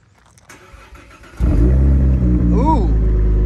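A 2016 Cadillac ATS-V fires up after a quiet stretch, its engine catching with a loud bark from the exhaust and settling into a deep, steady idle close by, with a brief rising rev near the end.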